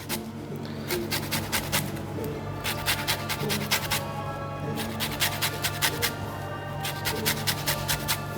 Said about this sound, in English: I want to zest 2 lemons in there